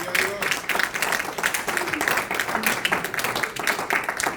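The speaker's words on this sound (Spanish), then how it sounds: "Denle un fuerte aplauso al Señor." A church congregation claps loudly and continuously, a dense rapid patter of many hands filling the space for several seconds during a Spanish-language worship service.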